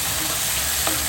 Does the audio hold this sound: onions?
yes